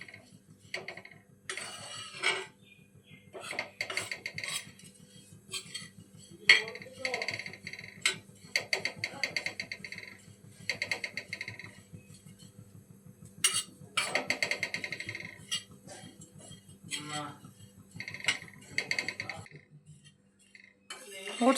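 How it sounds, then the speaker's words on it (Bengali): Dry oats stirred continuously on a hot tawa give intermittent scraping and clattering strokes of a spatula against the metal, bunched in bursts with short pauses and a low steady hum beneath. "এবারে আমরা এর মধ্যে ওটসটা দিয়ে দিচ্ছি। ওটসটা ক্রমাগত নাড়তে থাকবো।"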